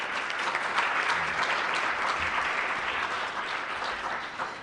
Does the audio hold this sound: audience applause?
yes